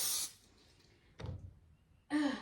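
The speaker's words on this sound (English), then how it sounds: "We are going to spray our pan here." Two short, soft hissing bursts of cooking spray hitting a pan, close by, separated by a quiet pause.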